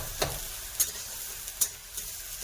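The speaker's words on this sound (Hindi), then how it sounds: "चलिए सभी प्याज को तो डाल दें, पूरा लाल करके भुना के" Onions frying in a pan, a soft steady sizzle broken by a few sharp scraping stirs of a spatula, close by and with no voices.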